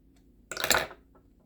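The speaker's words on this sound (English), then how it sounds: "at least I'm using my scissors" A single crisp snip of scissors cutting fabric during trapunto quilting at a Janome MB4/MB7 embroidery machine. It is brief and close, over a quiet background hum.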